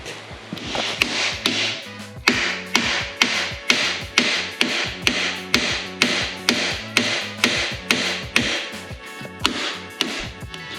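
A hammer beats metal subframe brace plates for a Mk3 Supra into shape, a steady series of around twenty sharp, evenly spaced blows that ring close and loud with no talking.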